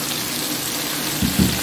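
Peppers tossed into a pan of sautéed chicken, a steady close hiss of frying oil with a couple of brief louder splutters near the end, no voices.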